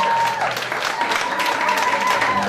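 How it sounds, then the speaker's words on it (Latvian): Audience applause at a music competition results announcement, steady dense clapping throughout with a faint tonal hum and possible background voice. "Aicinām Aminatu, lūdzu ar aplausiem!"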